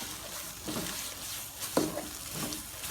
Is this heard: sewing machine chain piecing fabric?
no